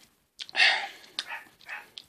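Several dogs bark in short, sharp bursts, a few loud yaps spaced across a couple of seconds at moderate distance, heard alone without talk.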